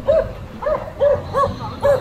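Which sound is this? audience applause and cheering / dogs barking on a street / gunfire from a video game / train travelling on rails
dogs barking on a street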